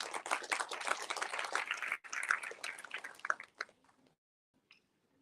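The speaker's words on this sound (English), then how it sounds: "Let's give him another round of applause." An audience at a DNA profiling test launch event applauds a speaker, a brisk patter of clapping that thins out and fades to near silence after about four seconds.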